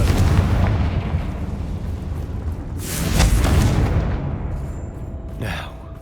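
Confringo fire spell from Hogwarts Legacy erupts in a loud, close explosive blast that swells into a long rumbling roar and slowly fades, with a brief sharp crackle near the end.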